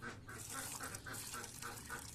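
Ducks quack in steady repeated calls, about one every quarter second, close and loud over a murmur of background noise, with feed for them being prepared nearby.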